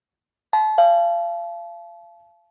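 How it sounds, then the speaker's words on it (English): A doorbell chimes a clear two-note ding-dong, the second tone ringing on and slowly fading into silence. "I'm hearing a doorbell."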